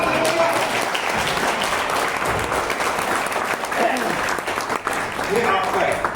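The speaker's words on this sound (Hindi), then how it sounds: "एक बार जोरदार तालियां।" Loud, dense audience applause at a motivational talk fills the whole stretch, steady with swelling bursts and a voice speaking faintly underneath.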